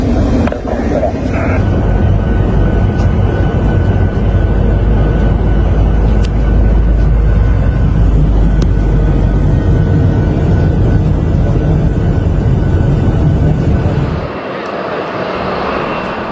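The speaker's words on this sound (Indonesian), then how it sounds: "Jet tempur Mesir, yang dikenal dengan armada F-16 canggihnya" Egyptian Air Force F-16 fighter jets escorting a presidential plane over Egypt give a loud, continuous engine roar, heavy in the low end, that drops away abruptly near the end.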